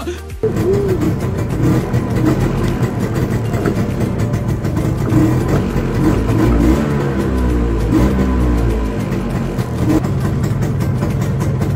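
An auto rickshaw's engine catches after a breakdown and then revs repeatedly in a loud, close, uneven chugging rumble that runs steadily throughout.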